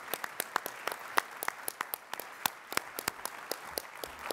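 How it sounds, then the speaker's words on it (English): Applause at a charity breakfast event after organizers are thanked: scattered, fairly sparse hand claps from a modest crowd, uneven in rhythm and moderately quiet, continuing steadily for several seconds with no voices over it. "Please give them a great round of applause."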